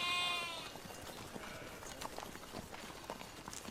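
Goats bleat a few times up close, with scattered hoof clatter and shuffling movement around them.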